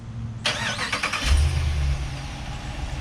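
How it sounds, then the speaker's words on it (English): A 2019 Ram 2500 pickup with a 6.4 liter Hemi V8 fires up by remote start: a sharp starter catch, then the engine roars to a loud rumbling idle that settles and holds, heard up close with no talking. "So I'm gonna go ahead and put the remote start, press it twice."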